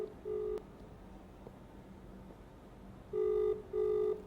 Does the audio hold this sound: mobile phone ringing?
yes